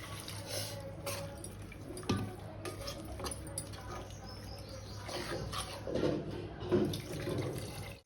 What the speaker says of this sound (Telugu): అన్నీ వేపి పెట్టుకున్న మసాలా, పులుసు వేసేస్తున్నానండి